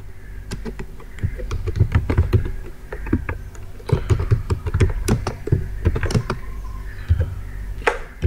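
Rapid typing on a computer keyboard while entering data into an Excel spreadsheet, bursts of crisp key clicks and heavier enter-key taps, close and clear with brief pauses.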